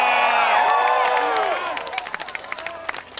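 Large outdoor rally crowd cheering loudly, whoops and yells fading into a stretch of scattered, distinct clapping.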